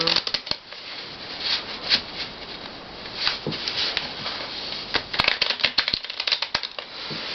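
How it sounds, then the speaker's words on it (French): A deck of playing cards being shuffled in a card-trick demonstration, giving a steady run of close, crisp riffling and snapping clicks throughout. "on peut mélanger le jeu"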